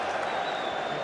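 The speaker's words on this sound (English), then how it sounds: "A bit of a cheer there from the Southend fans." Southend United supporters cheer and clap at a 2008 play-off semi-final away at Rovers, a dense crowd roar heard steadily from a distance inside the stadium.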